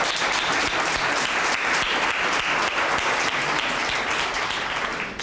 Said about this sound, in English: So if I could just get a quick applause for them.